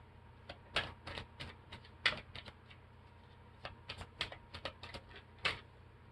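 Guidance cards are shuffled by hand in a quiet room, a series of short crisp riffles and flicks in irregular bursts over a faint steady hum, with no talk.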